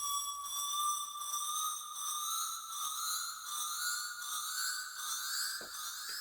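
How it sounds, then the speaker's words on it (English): A synthetic riser sample in an MPC trap beat, a sustained tonal sweep whose pitch climbs slowly and steadily with bright harmonics and a gentle pulsing, heard alone at moderate volume. "Now this was kind of like a riser sound that they had in there that I dragged over."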